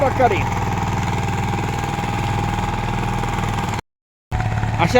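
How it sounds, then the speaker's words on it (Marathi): A Swaraj power tiller's engine runs steadily in reverse out in a farm field, a continuous close, loud, rumbling chug. It cuts out briefly near the end, then resumes. Voices can be heard faintly over the engine noise. "रिवर्स प्रकारे हा पॉवर टेलर चालू जातो"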